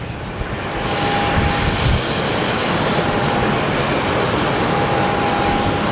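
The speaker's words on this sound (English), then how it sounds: "So up next is our United flight." A United airliner at Sky Harbor Airport gives off a sustained, fairly loud engine roar with a thin whine on top, holding steady throughout with no voices.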